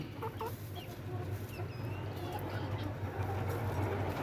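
Young chickens cluck and peep softly inside a brooder box over a steady low hum, with faint voices heard at moments.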